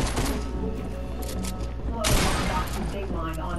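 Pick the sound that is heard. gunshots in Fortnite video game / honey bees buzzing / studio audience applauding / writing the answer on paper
gunshots in Fortnite video game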